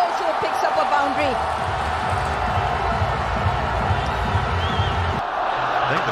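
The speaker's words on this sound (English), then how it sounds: "I think the crowd are chanting his name." Cricket crowd at an England v Pakistan match chanting a batsman's name, a broad steady roar of many voices with no clear breaks, heard from the stands.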